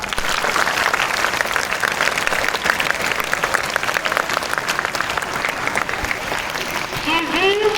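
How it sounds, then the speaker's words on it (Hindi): An audience at a school Independence Day celebration claps loudly for the children who have spoken. The applause is dense, continuous and close, and a few voices and faint whistle-like tones rise near the end. "तो अगेन अब तक जितने बच्चों ने बोला उन सब के लिए जोरदार ताली।"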